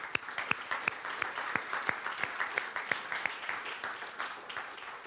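A church congregation claps at a Spanish-language service, a sparse, moderately distant round of individual claps with a few sharp hand strikes, continuing steadily.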